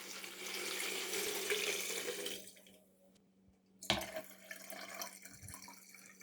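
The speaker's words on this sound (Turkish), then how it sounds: "Üzerine içme suyu dolduruyorum." Drinking water pours into a plastic jug in a steady, fairly quiet gushing stream that stops, followed by a short knock and a few drips and small handling sounds.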